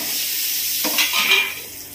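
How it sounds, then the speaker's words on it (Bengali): Whole garam masala of cardamom, black pepper, cloves and cinnamon hits hot oil with a bright, close sizzle that swells briefly, together with a light clink of a pan. "গরম মশলা ফোড়ন দিলাম"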